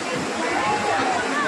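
Waterfall streaming at a hillside ashram in Assam with bathers nearby, a constant broadband roar of falling water, fairly close, with faint crowd murmur blended underneath.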